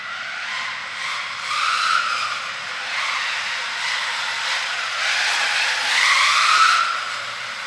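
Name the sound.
RC car skidding out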